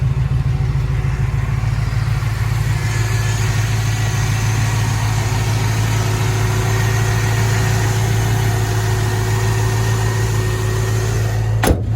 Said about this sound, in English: Now let's go listen to the motor.